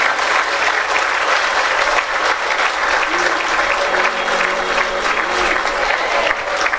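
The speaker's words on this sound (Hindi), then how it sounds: "जोर से तालियां गुरु माँ के लिए और पिताजी के लिए।" Loud, dense applause fills a hall at a spiritual gathering honoring a guru mother and father, continuous and even for several seconds with no break, a faint murmur of voices beneath.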